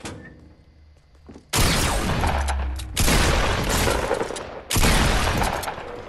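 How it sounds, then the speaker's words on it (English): Sniper rifle shots in the video game Fortnite: three loud, sharp blasts spaced about a second and a half apart, each with a long rumbling tail, after a quieter stretch of low background game sound. "That's two shots right there."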